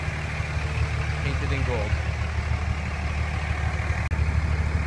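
A 2003 Dodge Ram 2500 SLT/Laramie diesel engine idling with a steady low rumble and clatter throughout, while someone talks over it.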